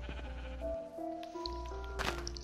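Sheep in Minecraft for PlayStation 4 bleat in a couple of short wavering calls, fairly clear against a low ambient game hum, with no voices.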